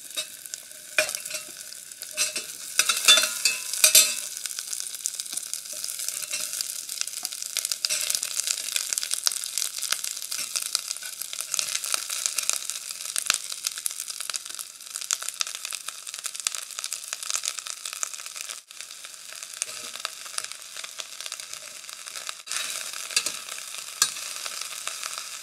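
Vegetables sauté in melted butter in a pan over medium heat, giving off a dense, steady crackling sizzle that runs nearly unbroken, busier near the start while they are stirred, close and with no voices.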